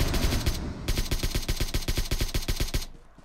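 Rapid automatic gunfire in a zombie-map shooter game, loud and close, bursts of evenly spaced shots with a short pause before a long steady volley that cuts off near the end.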